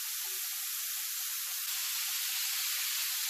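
Meat sizzles steadily on a hot Pepper Lunch-style hotplate for a steak dinner, a loud, continuous close-up hiss with no talk over it.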